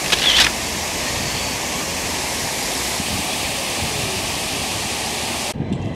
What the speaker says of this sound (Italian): Siamo arrivati al Castello Sforzesco. Guardate che bello con la fontana.